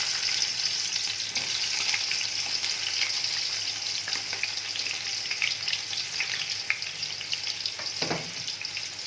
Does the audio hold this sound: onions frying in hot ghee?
yes